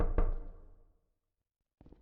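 A single sharp knock on a door in the video game Ding Dong Ditch rings out and fades over about a second, followed by silence and a brief faint rustle at the end.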